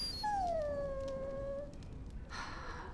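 A dog whimpering in the video game Dragon Age: Origins, one long high falling whine that tapers off, then a short soft rustle, quiet and alone with no talk.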